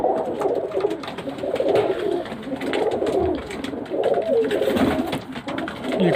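Pakistani pigeons coo in a loft in Ireland, soft repeated throaty calls overlapping in close, steady rhythm with no talking.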